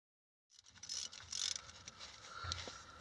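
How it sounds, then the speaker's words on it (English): A torque wrench or ratchet works the differential cover bolts on a Willys Jeep CJ-5, making close, irregular metallic clicking and ratcheting that starts abruptly and continues for a few seconds without talking. "Okay, I'm going to torque them down."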